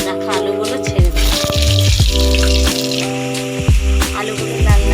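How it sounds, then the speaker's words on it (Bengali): Cut potatoes fry in hot oil tempered with cumin and dried chillies, a continuous close sizzle with bursts of crackle, overlaid by strong tonal sounds that come and go. "এরপরে কেটে রাখা আলুগুলো ছেড়ে দেবো।"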